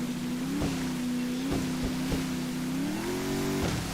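A nitrous-boosted boat motor in FiveM gives a loud, steady droning hum that climbs in pitch toward the end, with water slapping and splashing against the hull throughout.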